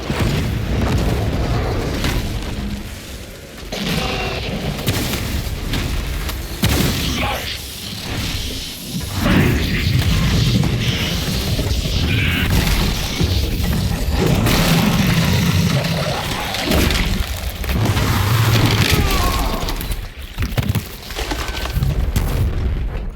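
Grenade explosions in the Space Marine II video game, heavy booming blasts recurring through dense battle noise, with game voices speaking over parts of the action.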